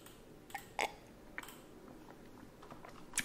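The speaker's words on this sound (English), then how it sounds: "Go ahead and type in those 4 digits." Four digits typed on a computer keyboard in a quiet ASMR setting, a few sparse, soft, close key taps with pauses between them.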